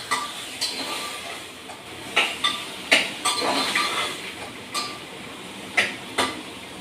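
Soaked chana dal being stirred in a pan with a utensil, giving a series of irregular scraping clinks and taps, close and fairly clear, with no talking.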